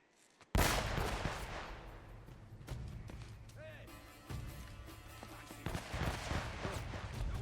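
Gunfire in the Uncharted video game: a loud burst of shots erupts after a brief quiet start, then continuing scattered reports, impacts and crashes ring out over a steady low rumble, with an occasional voice in the mix.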